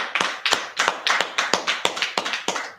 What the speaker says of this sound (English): let's clap it up, clap it up.